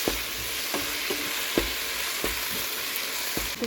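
Soya meat sizzles in a hot pan as Jaffna curry powder is stirred in, with a spoon scraping in regular strokes about every second over the constant frying hiss.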